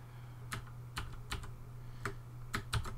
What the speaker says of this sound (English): I bought this keyboard because it's a mechanical keyboard and therefore it's amazing